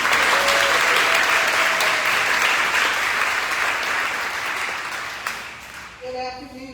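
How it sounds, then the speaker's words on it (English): A town hall audience claps loudly and continuously for city councilors, the applause thinning out near the end before a voice briefly starts speaking. "So, round of applause for them."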